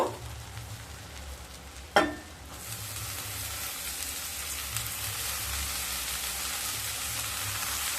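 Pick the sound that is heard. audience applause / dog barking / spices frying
spices frying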